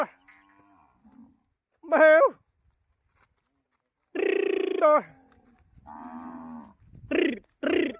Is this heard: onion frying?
no